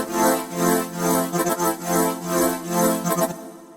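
Serum synth chord preset "Chord Flying" played as a sustained harmonic chord, its loudness swelling and dipping in a regular wobbling pulse from a strange LFO, loud and close with no voices, then cutting off.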